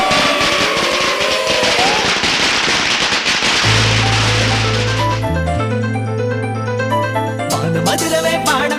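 Diwali firecrackers burst in a rapid crackling string of loud pops and bangs, followed by a stretch of music.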